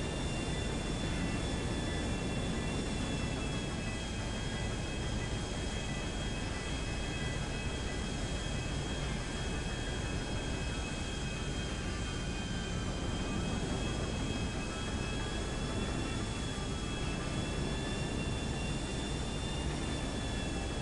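An airliner flies in the video game GTA 5, making a faint, steady jet-engine drone with a thin whine on top. The sound stays constant throughout, with no speech.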